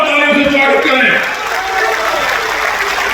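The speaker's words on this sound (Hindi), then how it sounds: "इसलिए जोरदार तालियों से स्वागत करें" Applause from a political rally crowd, dense and steady clapping that fills the space at close to moderate distance, with a loud voice over a public address system above it in the first second.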